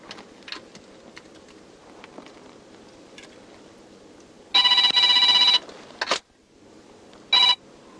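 A phone ringtone sounds close and loud in two bursts, a long ring of about a second followed by a shorter one, over faint background noise with no talk.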